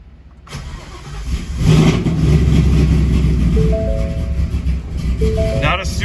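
A Ford S550 engine with new VVT units cranks and catches, revs briefly, then settles into a steady rumbling idle close by, with a voice briefly audible.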